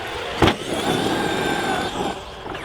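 A Traxxas X-Maxx RC car runs on gravel with a steady, loud electric motor whine and crunching tyre noise, a sharp clack near the start, then the sound eases slightly toward the end.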